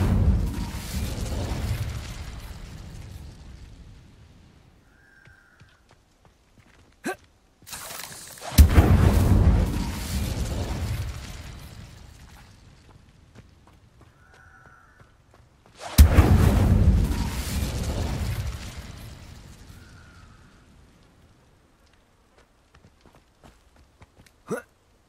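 Incendio fire spell cast in a Harry Potter video game, three separate broad whooshing fire bursts, each starting with a sharp crack and then a roaring flame that fades over several seconds, with quiet gaps between them.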